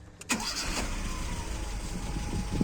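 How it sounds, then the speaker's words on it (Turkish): A Tofaş Şahin car engine cranks and catches right away, then settles into a steady, close idle with a low rumble. "Gördünüz gibi yarım marş alıyor."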